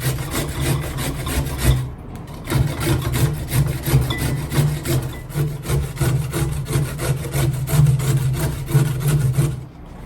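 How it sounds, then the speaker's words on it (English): Carrots are shredded on a box grater into a bowl in rapid, rhythmic rasping strokes. The scraping is close and loud, with one short pause near the start. "I just have this little box grater that I will shred them right into the bowl"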